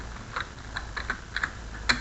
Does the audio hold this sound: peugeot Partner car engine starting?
no